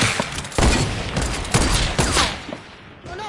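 Sharp gunshots crack in a Fortnite solo battle royale match, several loud reports spaced about a second apart over background game noise.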